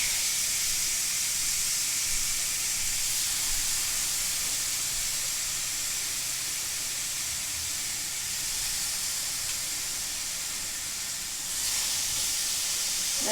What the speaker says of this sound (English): Alright, so the skillet's nice and hot. Pork chops are going in.